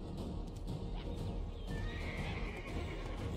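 A horse in Black Desert Online whinnies loudly in a rising, drawn-out neigh, with hoof clip-clops and other game sounds around it.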